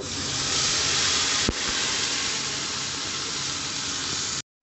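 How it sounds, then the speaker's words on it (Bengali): Tomato and onion paste fries in oil with a loud, even hiss that runs almost unbroken, marked by one brief click partway through before cutting off abruptly. "তো এই পেস্টটাকে তেলের মধ্যে দিয়ে কষিয়ে নেব।"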